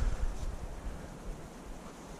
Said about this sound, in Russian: Ветер сегодня еще сильный.